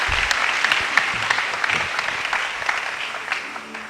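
Sustained, dense clapping from a church congregation at a Tuesday celebration service, with a crowd murmur beneath, holding steady before easing slightly at the end.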